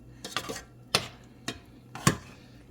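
A spoon scraping and knocking around a pot of cheese sauce, several distinct clinks and scrapes spaced irregularly, close and fairly quiet, with no talking.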